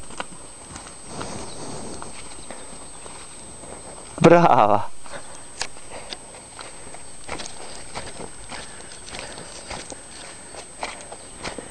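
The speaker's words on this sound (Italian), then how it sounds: "Lei è una mucca che va al galoppo." A cow gallops across a field, her hooves thudding in soft irregular clip-clop steps, faint and somewhat distant, with a louder burst midway and a person speaking briefly.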